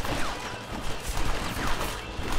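Rifle gunfire from the Red Dead Redemption video game: a dense, continuous crackle of shots with a busy background of rumble and clatter, loud throughout and with no clear gaps between reports.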